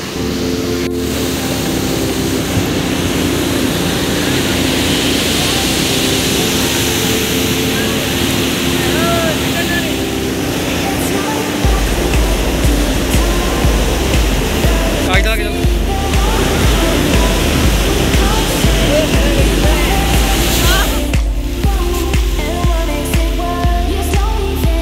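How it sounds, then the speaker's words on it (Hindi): Steady, loud broadband roar of rushing water from a waterfall carrying a lot of water near Gulabgarh on the Machail Mata pilgrimage route, continuous throughout with a deeper rumble joining midway, while someone talks over it. "यहाँ पे वाटरफॉल काफ़ी ज़्यादा पानी है यहाँ पे।"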